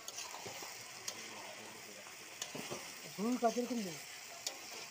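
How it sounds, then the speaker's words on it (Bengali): Chunks of meat and potato fry and get stirred in a pan, giving a soft sizzle with scraping and clacking stirs, plus a brief tonal squeak near the end, close by, with no talk. "দিয়ে দিল আলু, আলু দিয়ে নাড়াচাড়া করতেছে।"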